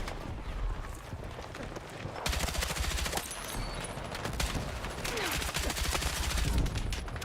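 Dense gunfire from the video game Battlefield 6, rapid automatic bursts and scattered shots layered into a loud, continuous battle din with no clear pauses.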